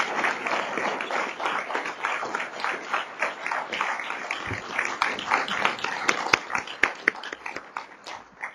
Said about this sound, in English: I'll ask for a round of applause for Dr. Moore.